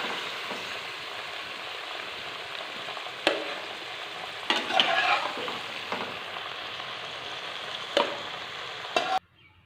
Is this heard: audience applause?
no